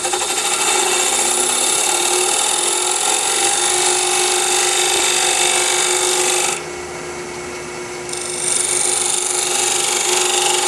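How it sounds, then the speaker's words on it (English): A small oscillating multi-tool cutting ambrosia maple gives a loud, steady buzzing rasp that briefly drops in level for a second or two, then resumes at full strength. "I'm using a little multi-tool."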